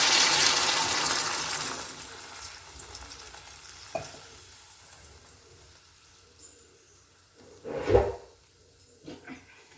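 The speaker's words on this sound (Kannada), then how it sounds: "ಈಗ ಇದಕ್ಕೆ ಸ್ವಲ್ಪ ನೀರು ಹಾಕ್ತಾ ಇದ್ದೀನಿ" Water is poured into a hot cooking pot, a loud rushing hiss at the start that fades away, followed by a few scattered clinks and knocks of the vessel.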